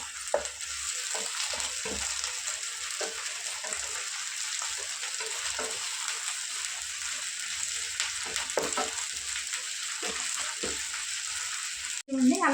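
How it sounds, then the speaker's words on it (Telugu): Ginger paste and green chillies fry in oil, a steady bright sizzle close up with occasional spatula scrapes, ending in a brief clatter. "అల్లం పేస్ట్ కూడా ఫ్రై చేసుకున్నాం ఆయిల్లో"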